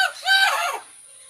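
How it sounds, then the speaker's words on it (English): A single loud, harsh squawking call from a mealy parrot, close and raspy, lasting under a second before fading. "Mealy parrots again."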